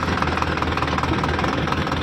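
A Powertrac Euro 60 diesel tractor idles near a rice field, giving a steady, close mechanical rumble with a fast knocking pulse that holds even throughout, with no voices.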